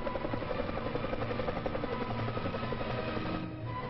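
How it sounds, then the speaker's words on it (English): Early four-bladed helicopter hovering, a steady loud rotor buzz with rhythmic chopping pulses and no voices, slightly muffled as in an old film recording. "Some early four-bladed copters actually hovered, while others only bounced."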